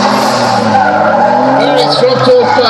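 Drift cars skid through a turn on the Archerfield race track, loud continuous tyre squeal over straining engines, with a commentator's voice running over the top.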